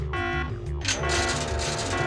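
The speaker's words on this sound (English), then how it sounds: "I heard the alarm. I didn't know it was timed though." A timed alarm in the video game Parasite Eve II blares as a loud, steady electronic tone with layered harmonic drones, shifting pitch partway through and continuing without pause.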